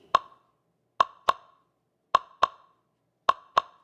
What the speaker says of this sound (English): I ran that through Object Delay, which does a bit of physical modeling so